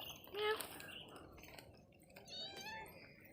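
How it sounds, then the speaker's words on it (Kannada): A cat meows quietly indoors, giving two short meows about two seconds apart over faint background noise. "ಪುಚ್ಚೆ ಬಂತು, ಓಡಿ ಬಂತು ಬೆಕ್ಕು, ಅಲ್ಲಿ ನಿಂದಿತ್ತು."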